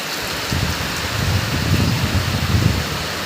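Heavy rain pours down steadily in a dense, continuous hiss that swells slightly louder after the first half second and holds for the rest, with no voices.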